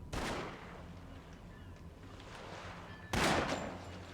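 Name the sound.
shotgun blast in The Sopranos: Road to Respect video game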